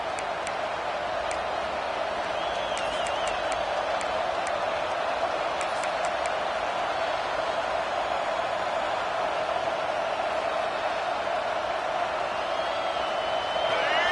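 Steady roar of a large football stadium crowd of fans, loud and continuous throughout a defensive play, with faint scattered whistles and no clear talk.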